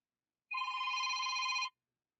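A phone rings once, a single electronic trill lasting about a second, clear and isolated against silence.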